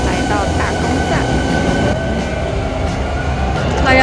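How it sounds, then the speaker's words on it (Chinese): Riding a Hankyu electric train into Omiya station in Kyoto: a loud steady interior rumble of wheels on rails with a faint whine, continuous and close. "刚刚坐这班车来到大宫站"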